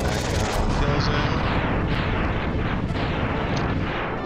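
Fire weapon striking and destroying an enemy in Mega Man X on PS4, heard as a dense, continuous burst of crackling, explosive game effects with rapid impacts layered over one another.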